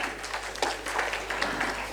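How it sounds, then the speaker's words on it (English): A conference audience at a real estate panel discussion claps steadily for a speaker. The applause is dense and continuous, moderately loud with a soft room hum underneath, and no one talks over it. "Can we have a round of applause for Hardeep Sachdeva"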